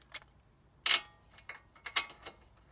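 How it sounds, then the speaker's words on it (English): A torque wrench ratchets while tightening the CV axle nut on a 2008 Dodge Grand Caravan, a handful of sharp metallic clicks at uneven intervals, close and alone. "Next we're gonna put our torque wrench on"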